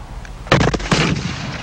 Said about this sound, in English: the townspeople and local militia began firing in earnest at the raiders